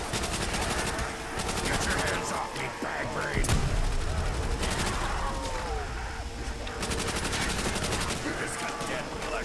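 In the zombie mode of Black Ops, a drum-fed M1927 fires long automatic bursts in rapid rhythmic rattles, broken by short pauses, with game sound effects and a voice speaking over it.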